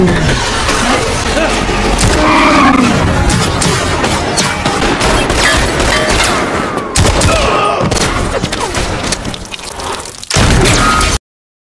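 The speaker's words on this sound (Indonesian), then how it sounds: "Tembak-tembakan terus terjadi" Rapid bursts of gunfire crackle throughout a loud, chaotic action-film shootout, with booming shots over a dense, noisy background and a brief drop near the end.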